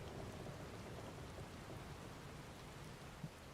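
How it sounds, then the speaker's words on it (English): A steady hiss of heavy rain fills a stormy scene in Final Fantasy XIV Dawntrail, with low rumbling thunder beneath and one brief faint knock near the end, all fairly quiet and with no voices. "We're in for a proper storm, it seems."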